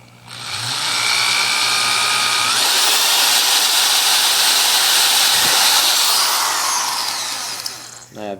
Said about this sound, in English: Just find the middle of that line, and you just drill right through.